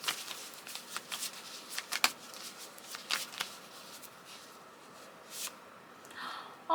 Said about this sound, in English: Okay, let's pick the next card.